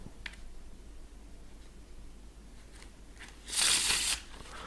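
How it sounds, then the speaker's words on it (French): A deck of playing cards is riffle-shuffled up close in a quiet room, heard as one loud, dense burst of fluttering card edges lasting about half a second, preceded by faint handling ticks. "il va faire les mélanges qu'il veut, en queue d'aronde"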